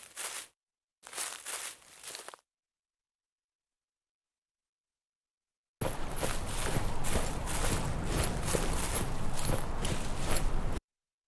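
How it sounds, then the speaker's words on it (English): Footsteps crunch through thick grass and leaves in the Death Stranding video game: a few brief rustling steps, a silent gap, then a longer stretch of dense, continuous rustling footfalls, close and without talk. "I added some additional grass and leaves sounds to fit to a thicker grass texture"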